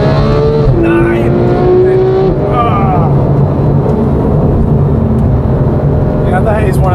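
A 2014 Ferrari 458 Speciale or Porsche 911 GT3 engine revs hard and loud from inside the cabin, pitch climbing through the gears along a straight with shifts, while a voice talks over the roar.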